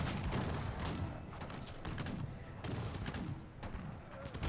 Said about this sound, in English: My musketmen try and get some shots in there